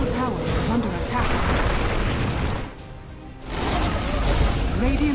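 A tower is destroyed in Dota with rumbling booms and crashing debris, loud and sustained, briefly dipping quieter before the blasts resume, while a voice talks over the game.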